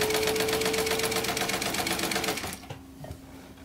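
High-quality vintage sewing machine running at a fast, even stitching rhythm for over two seconds, then stopping abruptly, with a few soft mechanical clicks and a faint hum left behind.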